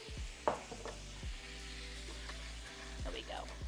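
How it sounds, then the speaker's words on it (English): A hot pan deglazed with red wine gives a soft, steady sizzle with a few utensil clinks and stirring scrapes, under a low hum. "we're going to deglaze our pan with a good red wine"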